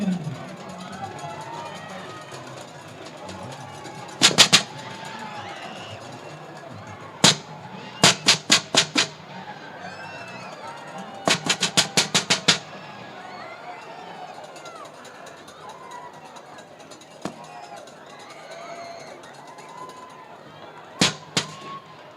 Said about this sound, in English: turn your attention to the home sideline for the T-shirt cannon